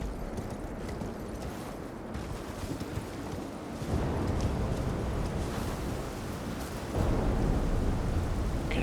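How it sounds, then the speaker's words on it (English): Steady low rumbling thunder rolls through the stormy mountain setting of Elden Ring Shadow of the Erdtree, growing heavier in two distinct surges, with no talk over it. "Okay, there's a lot of thunder there."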